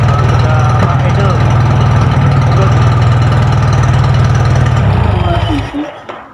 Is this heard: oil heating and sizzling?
no